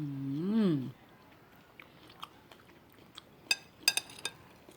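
A few crisp crunching bites of termite mushrooms cooked with tofu, close and sharp, following a brief hummed or sung tone at the start; the rest is quiet between the bites.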